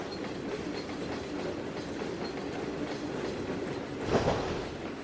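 A freight train hauling oil, gasoline and diesel tankers rolls steadily in Trainz 2022, a continuous broadband rumble of wheels and cars with a brief louder swell near the end, heard alone without speech.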